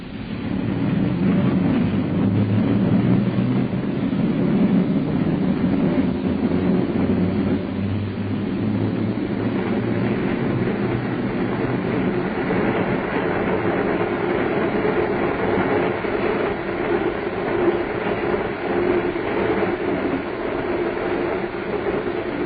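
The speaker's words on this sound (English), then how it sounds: "The Flying Scotsman was 2 hours late." A steam train, the Flying Scotsman, rumbling along as a radio drama effect: a steady loud rolling roar with faint rhythmic clatter of wheels, continuous throughout with no voices.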